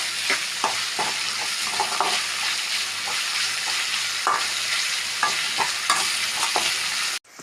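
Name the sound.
eggs frying in a pan with onions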